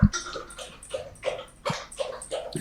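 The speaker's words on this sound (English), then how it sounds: "that's what my dog sounds like drinking" A dog drinking water, its lapping coming through as a run of short, irregular wet bursts close up, with no talk over it.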